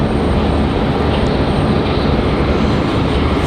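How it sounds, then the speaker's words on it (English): Republic Airways Embraer E175 LR jet airliner passing at Raleigh-Durham International Airport, a loud continuous broadband engine roar that holds steady throughout with no talk. "So that one is Republic Airways 4804 headed to JFK. Again, another E175 LR."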